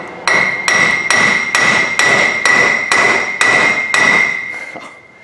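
An 8-pound hammer strikes metal on a Ford F-250 truck about ten times in a steady rhythm, each blow a loud, close clang with a ringing metallic tone.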